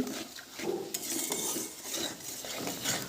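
Masala spice paste for a cashew egg curry stirred and sautéed in a pan with a splash of spice-rinsing water, a steady wet scraping and clinking of a utensil against the pan, close and moderately loud.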